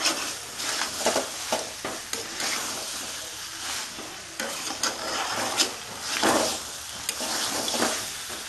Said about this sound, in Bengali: খুব অল্প তেল দিয়ে রান্না করছি আমি মাংসটা, শুধু কষাটা ভালো করে করছি আমি